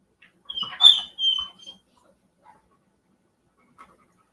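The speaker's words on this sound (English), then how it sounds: "That's the neighbor's dog." A neighbor's small dog gives a brief high whimpering yelp and a few short whines, then faint scattered sounds in an otherwise quiet space, with no talk.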